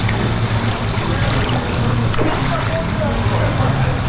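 Water jets spray and splash against riders on a fast-moving water park ride at Volcano Bay, a steady loud rush of water close by with faint voices underneath.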